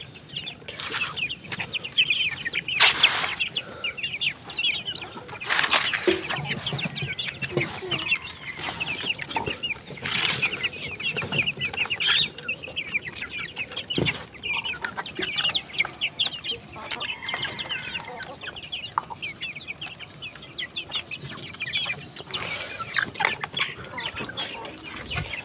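Farm broiler chickens cluck and chatter in a small village coop, with a continuous, fairly close flock murmur, occasional louder squawks and brief wing flaps.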